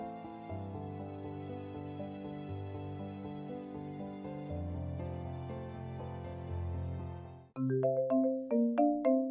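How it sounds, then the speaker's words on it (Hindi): A melodic phone ringtone plays in a home, a steady looping tune that continues throughout, then switches to a brighter, plucky chiming pattern near the end; no one speaks. "कायनात, देखो बेटा किसका फोन है।"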